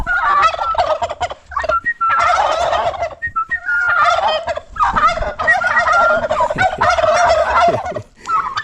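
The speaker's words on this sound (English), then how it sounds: "These are our turkeys. They make a lot of beautiful noises." Turkeys gobble loudly and close by on a farm compound, several birds calling in overlapping rattling bursts one after another with only brief gaps between them.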